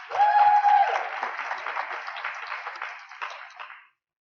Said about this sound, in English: Next, a round of applause, please, for Jessica Bishop, Event Project Manager